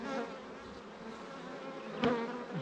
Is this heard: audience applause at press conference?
no